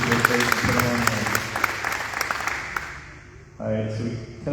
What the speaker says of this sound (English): let's give Bobby a round of applause